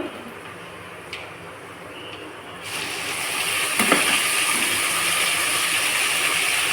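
Gongura (sorrel) leaves hit a hot tempering in a pan while making a Tamil thokku, and a broad, steady sizzle swells up partway through, then holds loud and close to the end.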